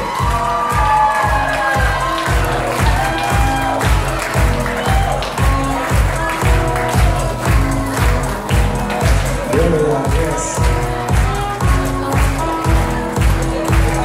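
A wedding reception crowd cheers and applauds a newly introduced couple, loud clapping and whoops layered over thumping dance music with a steady beat, filling the whole stretch.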